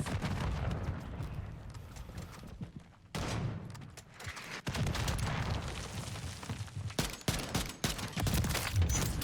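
Dense gunfire from the Modern Warfare III video game rattles in loud, continuous bursts mixed with booming blasts, with a couple of brief dropouts between volleys and no voices clear above the shooting.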